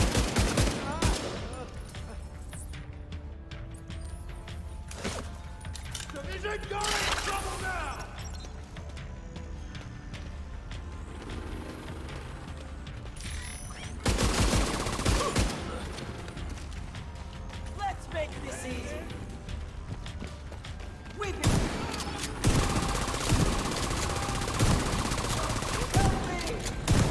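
Gunfire from The Division 2, with bursts of automatic weapon fire and scattered shots in a loud, busy game mix, heaviest in the final stretch and running under occasional voice.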